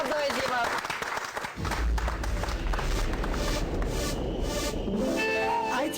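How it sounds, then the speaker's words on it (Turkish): Studio audience at a Eurovision 2011 broadcast from Baku applauding loudly, a steady roar of clapping and crowd noise that gives way to music and singing in the final second. "Hadi bakalım alkışlar."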